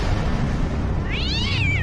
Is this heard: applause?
no